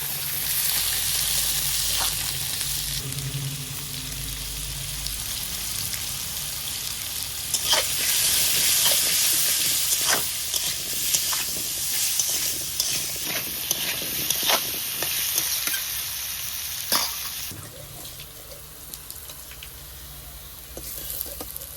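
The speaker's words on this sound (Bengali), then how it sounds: "আলুটাও ভেজে নিয়েছি লাল লাল করে" Potatoes seasoned with salt and turmeric fry in mustard oil, giving a continuous sizzle broken by repeated scraping and stirring strokes of a spatula in the pan, which fade a little toward the end.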